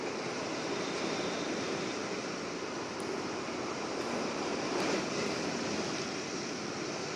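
Rough monsoon sea at Marine Drive and Dadar Chowpatty in Mumbai, a dense steady roar of crashing surf blended with wind noise, loud and continuous with no voices.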